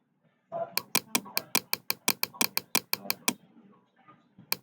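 Quick, evenly spaced keystrokes clack sharply on a computer keyboard, a burst of about a dozen and a half taps near the mic, trailing off into quiet.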